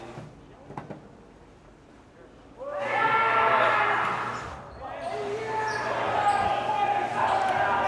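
A ball is served and struck with sharp, hollow smacks during a high school boys varsity volleyball match in a gym, followed by a swelling roar from the crowd and bench while a commentator talks.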